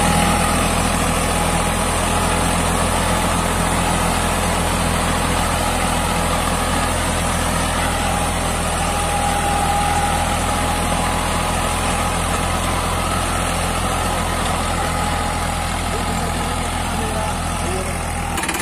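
A New Holland 3230 42 HP tractor runs a 7 ft rotavator at 540 PTO with the levers fully lowered, giving a loud, steady diesel drone with heavy low rumble that holds unbroken for nearly twenty seconds.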